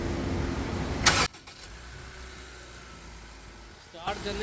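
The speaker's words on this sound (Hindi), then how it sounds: "गाड़ी करा स्टार्ट बेटा।" A 2020 Honda Civic engine is started in a workshop, with a short loud burst of cranking that catches into a quiet, steady idle, and a voice is heard near the start.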